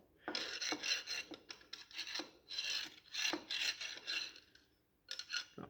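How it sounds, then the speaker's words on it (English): A bent screwdriver scrapes and rasps around inside the metal crankcase of an old, rusty crude-oil tractor, making close, repeated gritty strokes in uneven bursts with brief pauses. "I kind of feel a little bit with this bent screwdriver if we have anything in the crankcase."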